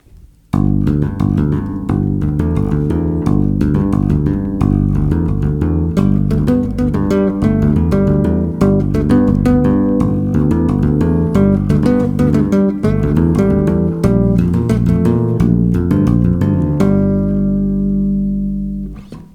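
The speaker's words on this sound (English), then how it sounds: "we play a bass line and a melody both at the same time" Bass guitar tapping plays a low bass line and a higher melody at once, steady and continuous, ending on a sustained low note.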